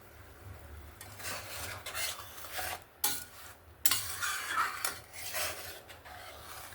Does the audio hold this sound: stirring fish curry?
yes